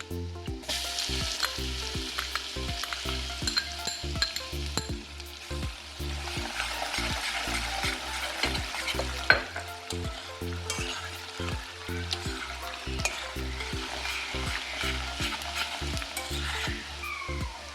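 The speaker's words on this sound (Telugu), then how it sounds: "వెల్లుల్లి కొద్దిగా ఫ్రై అయిందండి" Garlic and torn chillies frying in hot oil for a tomato pickle tempering, a loud, close sizzle with steady rhythmic scraping of a spoon stirring the pan throughout.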